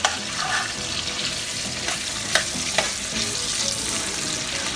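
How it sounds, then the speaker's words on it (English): Onions fry in hot oil in a pot for an eggplant and potato curry, a dense, close sizzle broken by a few sharp clicks of stirring. "We're gonna add oil in our pot first. So we're gonna add onions first in our oil."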